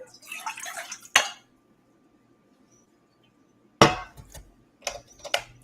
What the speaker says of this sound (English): I'm gonna change the pot so I can have the cover.